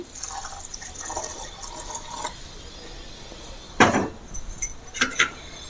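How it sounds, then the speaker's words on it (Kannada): A little water is poured onto grated coconut, a short trickle and splash near the end following quieter clinks, close up. "ಇದಕ್ಕೀಗ ಒಂದು ಸ್ವಲ್ಪ ನೀರು ಹಾಕೋತಾ ಇದ್ದೀನಿ"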